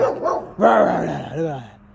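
A dog barks and yips close by in a short burst of two or three loud barks with a whimpering tone, with no talk over it.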